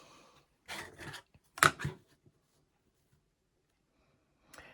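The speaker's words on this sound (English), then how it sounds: "just go off the edge that's hanging over and just trim it off" Scissors snip the overhanging raw edge of charm pack fabric while a quilt block is trimmed, two or three short close cuts followed by quiet.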